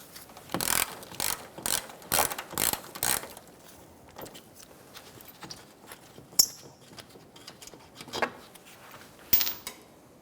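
A ratchet backs out a 10mm bolt on the lower control arm of a 2014–2019 Kia Soul, giving about six quick loud clicking bursts in a steady rhythm, then quieter scattered tool and metal handling noises.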